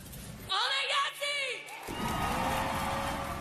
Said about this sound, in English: Massive rounds of applause, please.